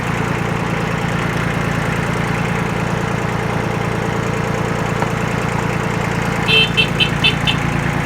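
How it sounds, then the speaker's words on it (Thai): A 4WD 16 hp tractor fitted with a mower deck idles smoothly and steadily up close, a continuous low engine rumble with a few light clicks near the end. "ใช้งานได้นะครับ นิ่มๆเลย เครื่องนิ่มๆเลย"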